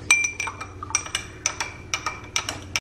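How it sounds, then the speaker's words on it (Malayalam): A spoon stirs milk tea in a glass, giving a quick run of bright, close clinks against the glass in an uneven rhythm, about a dozen taps over a few seconds with no talking. "നമുക്കിതൊന്ന് മിക്സ് ചെയ്യാം."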